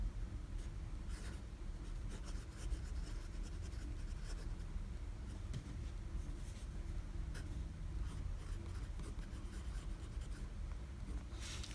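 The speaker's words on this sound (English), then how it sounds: "Let's do some writing." A Diplomat Esteem fountain pen with a medium steel nib writing on a Rhodia 80-gram dot pad, giving a soft continuous scratchy rubbing of nib on paper, close and quiet, with no talking.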